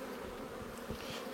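Buckfast honey bees buzz inside a hive, a steady close-up drone of many wings, low and continuous.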